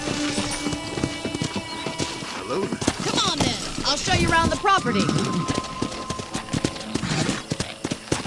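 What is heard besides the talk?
horse hooves while riding, from video game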